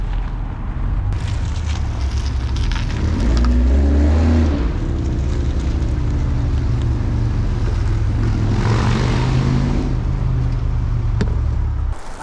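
A BMW M340i drives along a pothole-marked road, its engine and road rumble steady and close, swelling briefly as it accelerates, with no talk over it.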